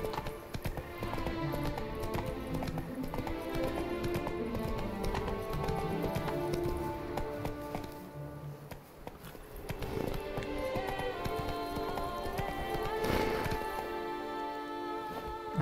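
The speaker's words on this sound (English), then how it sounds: "Espera, caballo, espera." In The Witcher 3: Blood and Wine, a horse's hooves clip-clop steadily and rhythmically at close range, with a brief whinny, a lull in the middle and a voice occasionally talking over the game sound.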